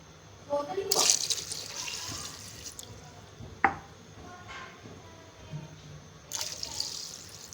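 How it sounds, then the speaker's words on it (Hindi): Water is poured into a pot of meat, beef or mutton, for a stew, with a couple of broad splashing bursts and a sharp knock among softer kitchen clatter and low background noise. "और अब पानी डाल के हम इसको गोश्त को गलने के लिए रख देंगे।"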